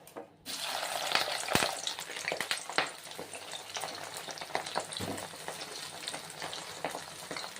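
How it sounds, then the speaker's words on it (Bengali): Cauliflower florets fry in hot oil with a busy crackling sizzle and scattered pops, and a spatula stirs them now and then. It is close and steady, and no one speaks. "এরকম ফুল ফুলকপিটা মিনিট পাঁচেক ভেজে"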